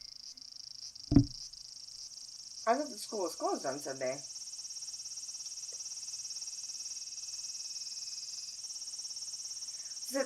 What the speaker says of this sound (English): The cicadas are singing loudly, which is normal for this time of year.